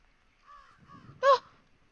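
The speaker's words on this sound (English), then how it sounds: "These damn birds, man." Crows caw in a video game: two softer calls followed by one loud, sharp caw close by, with quiet background between.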